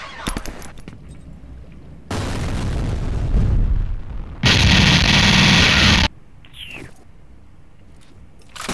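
A grenade blows up in the shooter game F.E.A.R., bringing a long, loud roar of blast and rumbling debris with a harsh, bright burst in the middle, set off by quieter game sounds before and after.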